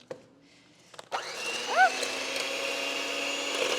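An electric mixer whirs steadily after starting up, mixing strawberry shortcake batter, a loud continuous motor hum with a brief rising whine as it gets going.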